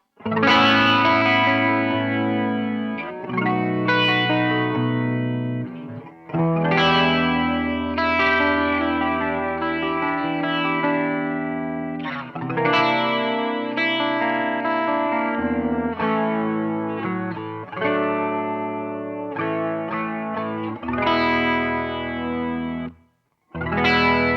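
An electric guitar runs through a chorus pedal with its filter switched off, giving shimmering, wide chords and arpeggios that ring and decay, with brief gaps between phrases and no talking.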